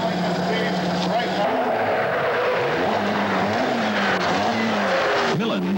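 A rally car driving hard through a 1984 Northwest spectator stage, engine note rising and falling through gear changes with some tire scrabble, heard under a commentator's continuous talk.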